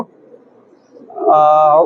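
A pair of Pakistani Highflyer pigeons kept in a cage gives soft, low cooing close by, then a louder, brighter drawn-out call near the end.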